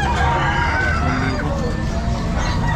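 A Sweater-line gamecock rooster crows amid a busy pet market, the call close and loud over dense market clatter and nearby people talking.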